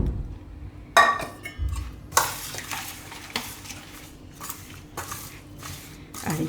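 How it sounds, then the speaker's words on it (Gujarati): Heated oil being mixed into a spice masala for sweet mango pickle, heard as a spoon scraping and clinking against a metal bowl in irregular bursts, close, with a faint sizzle and no talking. "તો આપણે જે તેલ ગરમ કરીને રાખ્યું હતું એ તેલ આપણે આમાં મસાલામાં મિક્સ કરી દેવું"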